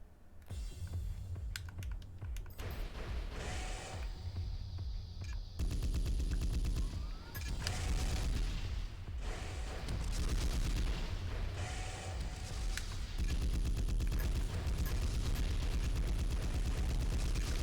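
A mech weapon fires in the Armored Core 3 video game as dense, continuous rapid-fire bursts with heavy rumbling blasts, loud and sustained throughout with no speech.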